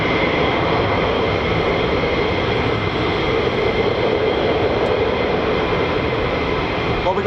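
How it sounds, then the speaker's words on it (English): F-35 fighter jets taking off at RAF Lakenheath, a loud, steady broadband jet roar that fills the whole stretch without a break, heard from a distance across the airfield. "more F-35s coming out there now"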